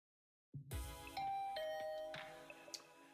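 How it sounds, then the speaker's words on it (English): A doorbell in a video game sounds a clear two-tone chime after a moment of silence, the ringing tones sustaining and slowly fading amid faint clicks, with no talk over it. "I rang her doorbell and waited for a bit, but Darumi never answered."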